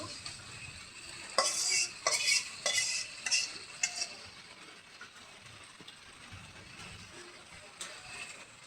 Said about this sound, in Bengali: মশলাটা আমার সুন্দরভাবে কষানি হয়ে গেছে, এখন এই যে মাছটা দিয়ে দিব